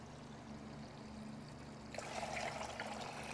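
Water drains from a Honda CL90 motorcycle engine into a bucket, a steady faint pouring trickle that grows louder and splashier partway through.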